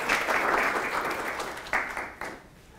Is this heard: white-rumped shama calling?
no